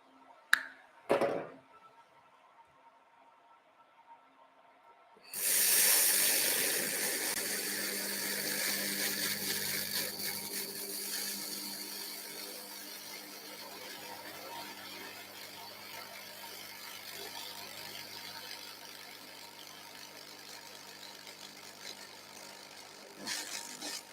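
An Everlast laser welder runs a weld: a sudden broad, steady hiss and hum switches on and holds for about twenty seconds with faint crackle, after a couple of sharp clicks, then cuts off with a final click.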